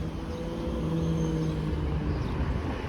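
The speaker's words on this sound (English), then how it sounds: "This motorcycle's crazy loud." A loud, rumbling motorcycle drones steadily throughout as it passes on Lakeshore Boulevard West in Etobicoke, Toronto, close by and dominating, with no talking.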